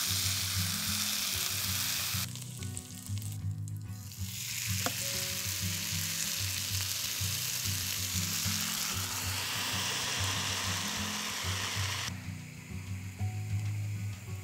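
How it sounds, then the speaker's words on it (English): A potato mixture frying in butter on a waffle iron sizzles loudly and continuously, with a low mechanical hum underneath and a short metallic click partway through. "lay the mixture on the waffle iron and fry for about 10 minutes"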